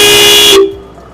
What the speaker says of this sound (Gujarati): આ મીડિયમ સાઈઝ ના હોરન છે